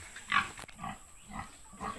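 Pigs on a farm giving short, soft grunts and snorts in a loose rhythm, a few close low huffs spaced about half a second apart, faint and without talk.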